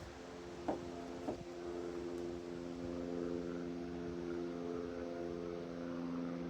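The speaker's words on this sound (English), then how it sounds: "There's an airplane up there somewhere." A student training airplane drones steadily overhead, a constant distant engine hum throughout, with a couple of brief clicks near the start.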